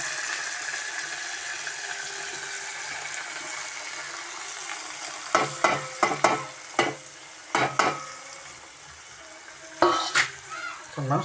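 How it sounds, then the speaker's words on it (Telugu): Tomatoes frying in a pan: a steady close sizzle, then clattering stirring scrapes in uneven bursts over the hiss. "టమాటా వేస్తున్నా."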